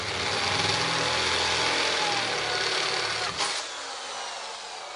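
A power drill with a taped bit bores through the thin outer skin of a door, a steady close whirring motor that winds down and stops about two-thirds of the way through.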